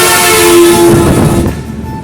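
A loud, sustained vehicle horn blares steadily for about a second over dense, rumbling traffic noise on 300 Feet Road, Purbachal, Bangladesh, then the roar eases slightly.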